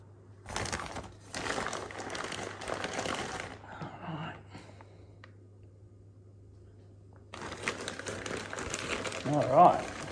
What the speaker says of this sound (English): But we'll get it unwrapped and have a look.